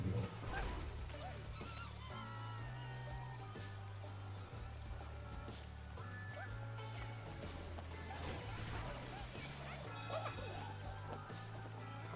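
Chicken-like enemies squawk and honk in the Astro Bot video game, repeated cartoonish clucks over a steady, busy musical score and game effects that continue throughout.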